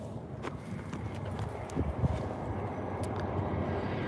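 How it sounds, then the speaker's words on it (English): Horses on a farm walk in together, their hooves clip-clopping in scattered, overlapping beats at moderate distance over a steady low rumble. "look at all the other horses coming in"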